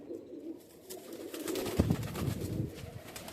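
Madrasi pigeons coo softly in a large loft among tumbler and flying pigeons, a quiet murmur that grows louder midway, with no talk.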